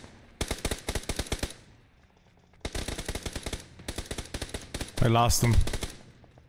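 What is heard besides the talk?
gunfire in a video game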